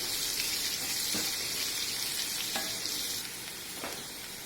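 Ingredients for dal fry sauté in a pan with a continuous close sizzle and a few faint stirring knocks, easing slightly toward the end; no talking.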